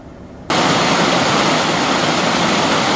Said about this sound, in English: Here's an example of how much water is coming out of Smugglers Gulch.